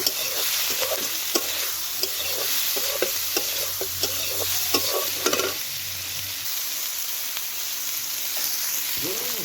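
Salted spice mix stirred in a frying pan, a loud, steady sizzle under repeated scraping and tapping of a spoon against the pan, near and continuous, with no voices.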